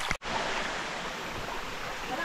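Rushing water of the Qiu Feng mountain stream in Hong Kong, a loud, steady broadband roar that runs almost without a break, close by and dominating the scene.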